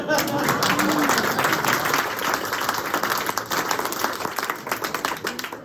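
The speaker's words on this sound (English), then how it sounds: "Clap for him." A lecture audience at MIT claps for a volunteer after a coin-flip magic trick, a loud burst of applause that thins into scattered individual claps while a voice talks over it.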